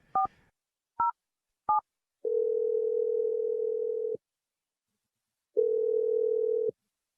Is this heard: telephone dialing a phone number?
yes